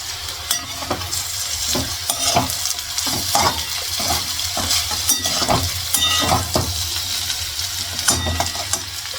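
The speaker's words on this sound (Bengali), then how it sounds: "আর একদিকে হচ্ছে আলু ভাজাটা বসানো আর আলু ভাজার মধ্যে হচ্ছে কুলে কাঁটার শাকটাও লাগিয়েছি" Potatoes fry together with kulekhara greens in a pan, giving a constant loud sizzle. Sharp clicks and scrapes from stirring break in at irregular intervals, close by.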